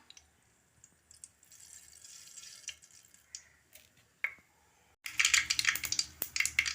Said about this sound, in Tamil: கடுகு நல்லா பொரிஞ்சிடுச்சு